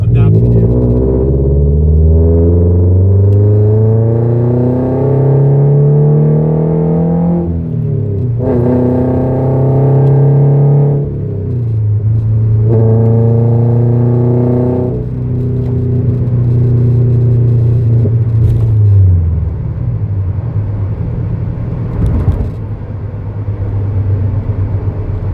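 A Scion FR-S in limp mode after a stage 2 plus tune, its engine droning steadily from inside the cabin with tone shifts as it lurches and changes pace, continuous and fairly loud.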